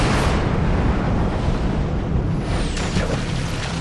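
Bomb-magazine detonation during a World War II kamikaze attack on the cruiser St. Louis, used as a war-documentary effect: a loud, continuous roaring blast that fills the whole clip without letup, with no voices.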